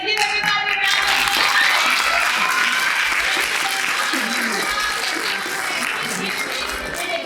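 Audience applause at a student art competition and oratorical contest, loud sustained clapping with cheers and crowd voices mixed in, gradually easing off toward the end.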